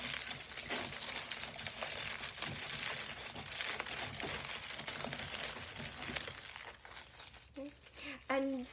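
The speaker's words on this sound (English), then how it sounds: "So you just grab some aluminum foil, and we're going to roll it up." Aluminum foil being rolled up by hand, a steady close crinkling and crumpling that runs continuously, with a voice coming in near the end.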